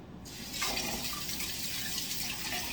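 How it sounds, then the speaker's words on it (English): Kitchen tap running while hands are washed under it, a steady close hiss of water splashing into a sink that starts abruptly and continues unbroken. "let me wash my hands, and I'll be right back"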